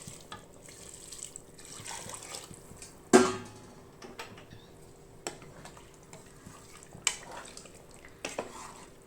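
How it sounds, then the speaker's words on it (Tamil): Hot water is added to a pot of rice for chicken biryani, heard as a steady trickling wash of water with scattered sharp clinks and knocks of a metal pot and utensil, close by. "நம்ம எடுத்து வச்சுருக்கிற சுடுதண்ணி சேர்த்துக்கலாம்"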